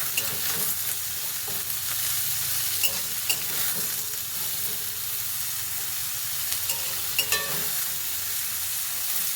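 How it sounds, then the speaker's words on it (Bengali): Pointed gourd pieces frying in a pan with a little turmeric, a continuous close sizzle with occasional stirring scrapes and brief pops, no voices. "তো পটলগুলো আমি আগে ভালো করে ভেজে নেব।"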